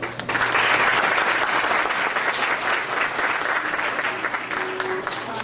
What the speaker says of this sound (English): I'd like to give the first round contestants a round of applause